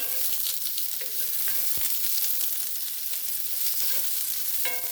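Onions and shallots sauté in a pan for a creamy mushroom soup, giving a steady, close sizzle and frying crackle with occasional light stirring clicks and scrapes throughout, no talking.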